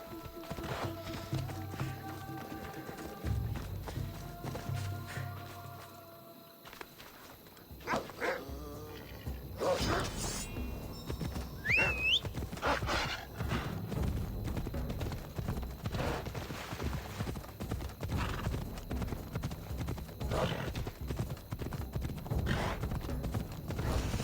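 Hooves of a galloping horse in Assassin's Creed Odyssey pound in a fast, continuous rhythm through most of the stretch, fairly loud, with game music and scattered ambient effects around them.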